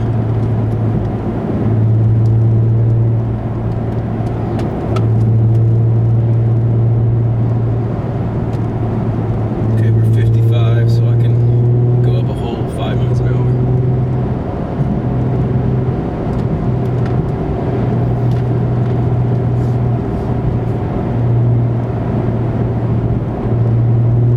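Nissan 350Z/370Z fitted with an Invidia Gemini cat-back exhaust and Berk Tech high-flow cats, heard from inside the car: a steady, loud low exhaust drone cruising in fifth gear around 2,500 rpm, with road hum and brief rattles midway.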